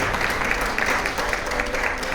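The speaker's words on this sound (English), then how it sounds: "Please give a round of applause." An audience at a farming technology panel event applauds a panelist, a steady wash of clapping hands that holds at an even level from start to finish.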